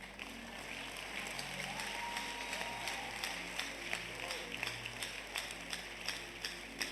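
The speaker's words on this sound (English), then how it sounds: "Clap well." A church congregation claps steadily and fairly far off, a dense patter with scattered sharper claps, while a voice carries on over it.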